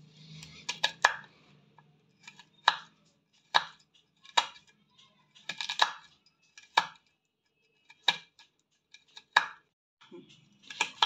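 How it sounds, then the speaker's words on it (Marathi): Spiny gourd (kartule) cut with a knife on a board: a series of crisp, irregular chopping thuds and clicks, close and distinct, separated by short quiet gaps. "मी सगळे आता अशाच पद्धतीने हे कुरटुले कापून घेणार आहे"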